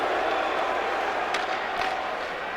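Arena crowd at an NHL hockey game between the New York Islanders and New York Rangers, a steady, dense wash of voices booing and murmuring throughout, broad and sustained without breaks.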